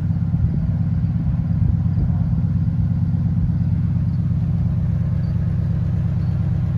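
A vehicle engine idles steadily after start-up during a trailer lights check, giving a constant low rumble that runs on alone for the whole stretch.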